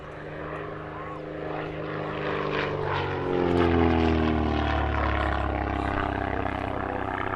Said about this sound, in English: The Italian-designed SF260 first flew in 1964 and was designed as a trainer and light attack aircraft.